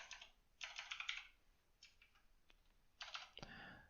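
Bursts of quick keystrokes on a computer keyboard come in short clusters with pauses between them. The clicking is close and fairly quiet and plays alone in a still room.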